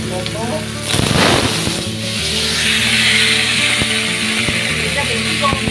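Fish frying in hot oil gives a loud, close, continuous sizzle and hiss, swelling briefly near the start, with faint background noises and occasional clicks.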